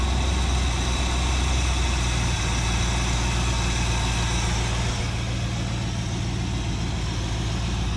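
A 1958 Chevy Biscayne hot rod engine idles steadily after an idle mixture adjustment, a loud, even, low rumble with no talking over it.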